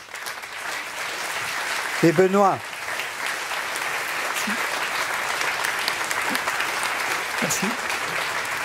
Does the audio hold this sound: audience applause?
yes